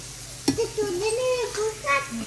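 Lentil fritters (bora) with poppy seeds fry in hot oil, giving a steady soft hiss with a sharp tap near the start. A voice hums or murmurs over it.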